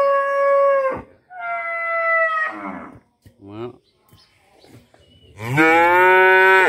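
Cattle on a Ben Tre farm moo loudly and close by: two long bellows, a few shorter broken grunts, then another strong, drawn-out moo at the end.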